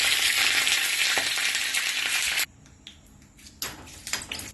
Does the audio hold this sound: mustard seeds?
yes